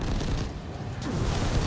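Sniper rifle fire in Destiny 2, a dense rumbling barrage of booming shots that stays loud and steady throughout with no clear gaps.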